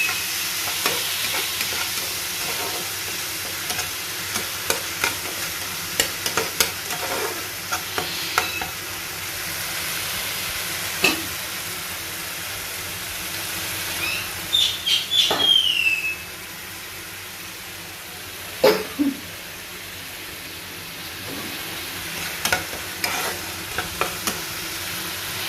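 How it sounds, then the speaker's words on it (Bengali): Spice paste of ground black cumin with tomato and a splash of water frying in a pan for a katla fish curry, stirred steadily with a spoon scraping and tapping now and then over a continuous close sizzle. "মশলাটা ভাজা হওয়ার জন্য।"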